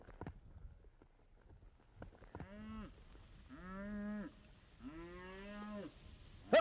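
Cattle on a ranch being herded from a meadow toward Canada, giving three drawn-out moos in succession over faint shuffling and hoof sounds, fairly close with quiet gaps between calls.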